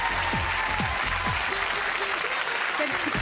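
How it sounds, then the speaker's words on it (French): A studio audience at a televised Monsieur France pageant claps for the numbered contestants, dense, steady applause filling the whole stretch, with a few voices and cheers rising through it. "Je vous demande de les applaudir."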